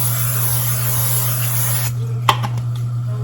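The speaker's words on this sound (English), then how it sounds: "Just put a little bit of spray on here" A steady hiss of cooking spray for about two seconds, close and loud, stopping abruptly and followed by a couple of light clicks over a low hum.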